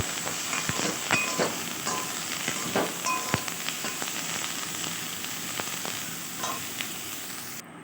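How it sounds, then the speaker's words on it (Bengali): Neem leaves and eggplant fry in a pan with a steady close hiss and crackle, dotted with small pops and a few utensil taps, no voices. "এই যে নিম বেগুনটা ভেজে নিচ্ছি"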